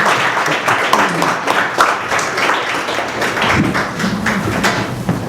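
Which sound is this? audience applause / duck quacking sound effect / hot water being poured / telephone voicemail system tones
audience applause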